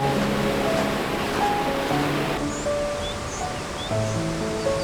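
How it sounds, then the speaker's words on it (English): Steady rushing and bubbling of Johnston Creek in winter in Banff, Alberta, continuous and fairly close, with no voices. "the sound of still bubbling Johnston Creek fills your ears"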